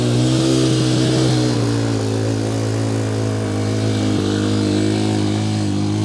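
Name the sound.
TAO TBR7 250cc dual sport motorcycle engine riding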